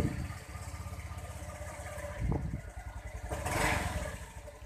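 A Honda Vario 125 scooter with weak initial pull runs nearby at a steady idle, with a couple of short throttle blips that swell briefly and fall back.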